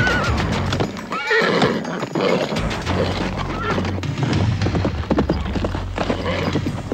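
A horse whinnies loudly while hooves clatter in a fast gallop, with a commotion of movement around it.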